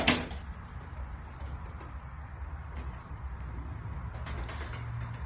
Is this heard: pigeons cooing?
yes